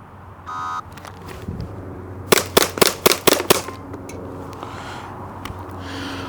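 Springfield XDM pistol fired at a target, six or seven sharp gunshots in a rapid, fairly even string, loud and near, with a brief electronic beep before them.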